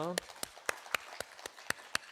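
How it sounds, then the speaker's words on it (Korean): A church congregation at a Friday prayer meeting claps in a quick, even rhythm, with sharp separate claps at a moderate distance after a brief voice. "우리 하나님께 영광의 박수 올려드립니다"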